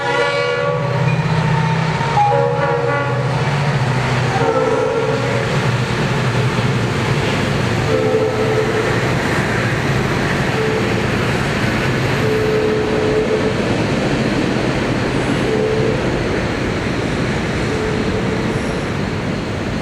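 A train rumbles steadily nearby with a loud, sustained horn blast early on, followed by the continuous clatter of rail cars rolling past.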